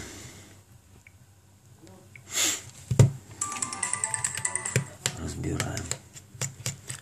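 A Samsung Galaxy Mini GT-S5570 phone switches on with a startup jingle of tinkling tones, set among taps and handling clatter.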